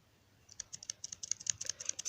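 Quick, light keystrokes tap on a computer keyboard in an irregular run that grows slightly busier, close and quiet, with no talking.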